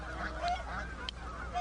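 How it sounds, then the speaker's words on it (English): Canada geese honk in a short burst of repeated nasal calls, fairly clear and close, with no voices over them. "Canadian geese, Diane."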